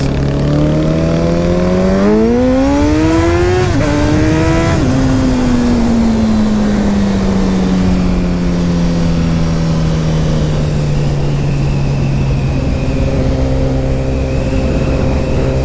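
A 1000cc super sport motorcycle engine revs hard, rising in pitch through gear changes, then settles into a long, steady decelerating drone; loud and close with no talk.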